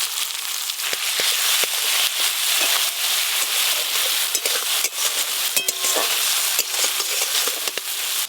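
Cumin, dried red chilli, green chilli paste and chopped tomato frying in a pan for a fish curry, a loud dense continuous sizzle and crackle with frequent spatula scrapes, close up and without speech.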